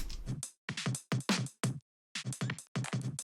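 A chopped neurofunk drum break loop with punchy, tight hits in short repeated bursts separated by brief gaps, fairly loud and dry.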